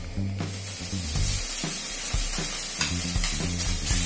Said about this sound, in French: Et puis, vous laissez frire pendant 2-3 minutes.